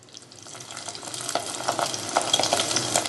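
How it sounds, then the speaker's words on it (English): Capers frying in a pan of oil, a soft crackling sizzle that grows busier and louder over a few seconds, with scattered pops and no talking. "now we're going to fry the capers for about 2 minutes"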